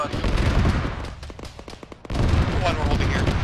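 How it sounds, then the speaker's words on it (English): Autocannon firing in an Arma combat mission, loud heavy bursts of rapid shots with a short gap of sharper separate reports in the middle, voices talking over the din. "that auto cannon is lighting people up in front of us"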